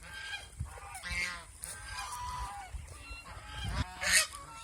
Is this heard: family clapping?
no